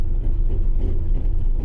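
Toyota Tacoma TRD Off-Road (2024+) straining under steady throttle with MTS traction control engaged, a continuous low engine drone and rumble from the spinning tires that holds loud and close throughout, with no talking.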